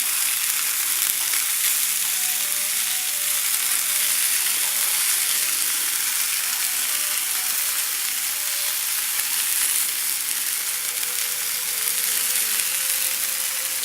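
Barbecue chicken balls sizzle and brown in a pan, a dense, even crackle of hot oil holding unbroken for the whole stretch with no one talking.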